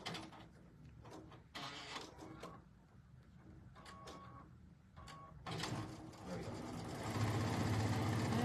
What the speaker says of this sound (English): So we're sewing these into pairs, and then we're going to sew the pairs together.